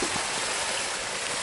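Running water of a creek near Zem Zem Falls rushes steadily and loudly, a dense, continuous wash filling the whole stretch with no voices over it.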